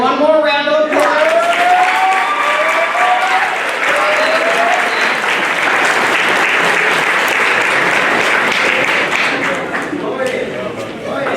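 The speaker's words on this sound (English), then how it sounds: "Can I get one more round of applause?" Loud, sustained applause from an audience at a middle school seventh grade academic awards ceremony, steady and dense for nearly the whole stretch, with a brief voice at the start.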